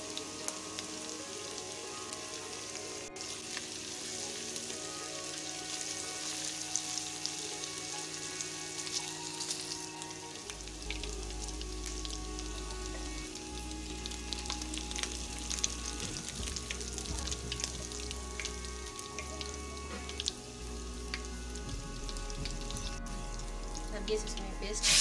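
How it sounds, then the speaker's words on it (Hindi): Chickpea masala for Lahori street-style chikar cholay frying in a pan, a steady crackling sizzle running throughout with low rumbling underneath and a person talking over it. "इसे 2 से 3 मिनट पकाएंगे जब तक ये सही फ्राई हो जाए।"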